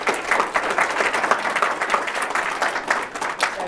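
Steady applause from an audience at a children's invention convention, dense even clapping filling the whole stretch at moderate loudness with a faint crowd murmur beneath.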